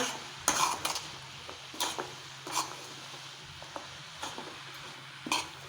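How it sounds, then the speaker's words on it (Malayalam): Grated coconut is stirred into a jackfruit seed and drumstick leaf thoran in a pan, a spoon scraping and clinking against the vessel in a handful of irregular soft strokes over a faint background hum. "അതിൻ്റെ കൂടെ കുറച്ച് തേങ്ങ നന്നായിട്ട് മിക്സ് ചെയ്യാം"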